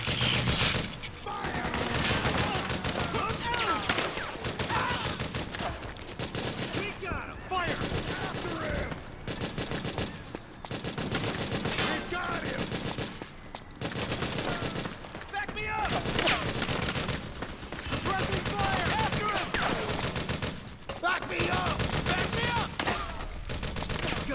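Dense, continuous gunfire and rapid bursts fill a battle in the PS3 video game Metal Gear Solid 4: Guns of the Patriots, loud and relentless, with shouted voices mixed in.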